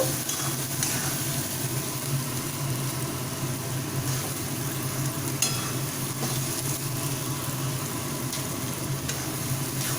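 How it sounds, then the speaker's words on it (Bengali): Vegetables for chowmein noodles fry in a pan, sweetened with a little sugar, giving a steady close sizzle with occasional scraping stirs and light utensil knocks. "এবার আবার একটু ভালোভাবে ফ্রাই করে নেব"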